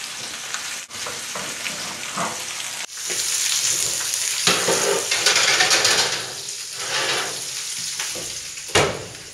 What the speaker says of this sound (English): you gotta love that sizzle